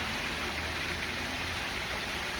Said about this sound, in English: whether the rain gets any more severe or not